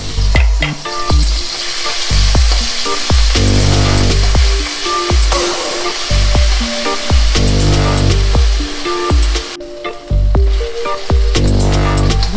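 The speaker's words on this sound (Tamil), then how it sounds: "ஜிஞ்சர் கார்லிக் நல்லா ஃப்ரை ஆகிடுச்சு." Loud, steady sizzling of ginger garlic paste frying in a hot pan, with repeated scraping and stirring strokes and bursts of spattering throughout.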